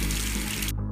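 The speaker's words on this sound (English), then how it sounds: "quick shower" Water from a shower runs steadily and loudly in an animated film for under a second, then cuts off abruptly.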